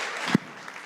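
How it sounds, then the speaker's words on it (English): Audience applause at a Social Media Breakfast talk in Minneapolis–St. Paul, a brief soft clatter of clapping that swells to a quick peak and fades into faint room noise. "I'd love to give Mr. T-Sauce a big round of applause."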